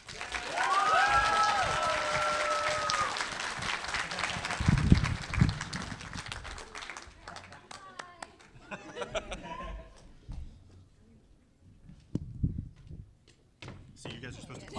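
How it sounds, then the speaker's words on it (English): Audience at a 2015 Cincinnati Comic Expo panel applauds and cheers as a guest walks in, a dense crowd roar that fades after several seconds, leaving scattered claps, thumps and murmured talk. "See, you guys are supposed to clap all the way up."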